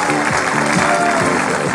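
Audience applause rings out welcoming the singer on stage, a dense, steady clatter of many hands clapping throughout, with a voice briefly audible beneath it.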